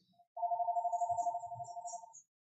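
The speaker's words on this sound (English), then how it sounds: "So phone is ringing. Yeah, I know I was supposed to mute that. It's a store phone." A store telephone rings in a long warbling electronic trill lasting about two seconds, clear and fairly close, in an otherwise quiet room.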